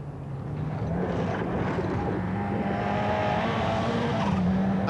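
A Ford Cosworth rally car races along a stage of the 1988 Scottish Rally, its engine a loud, sustained roar that stays close and even throughout.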